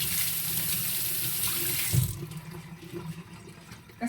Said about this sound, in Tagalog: Paghugas muna ako ng kamay.